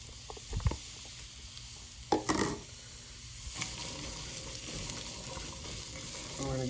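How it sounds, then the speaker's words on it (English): Onions and shallots sizzle in hot oil in a pan for pasta sauce. A steady, close frying hiss runs throughout, with a few louder bursts of stirring and clatter. "Here's the onions and shallots going in."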